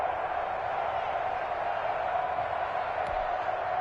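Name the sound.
stadium crowd cheering in a PS4 football video game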